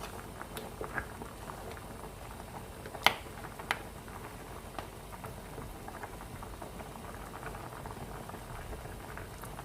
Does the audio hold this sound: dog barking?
no